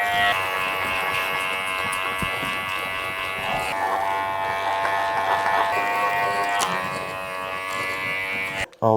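Electric hair clippers with a guard buzz steadily while cutting a man's curly hair, a close, continuous hum that shifts slightly in pitch as they work, with a voice talking over it.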